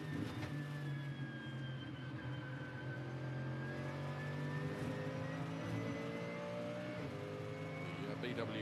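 Onboard engine note of the BWT Muka Motorsport Mercedes GT race car at Oschersleben in ADAC GT Masters, a steady loud drone with rising and falling pitch sweeps as it accelerates and shifts, with faint commentary underneath.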